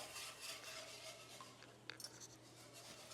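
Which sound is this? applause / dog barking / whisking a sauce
whisking a sauce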